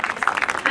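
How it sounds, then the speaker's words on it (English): An audience gives a short round of applause for two artists at a children's music competition, a quick run of close, bright claps. "Please, a big round of applause, please"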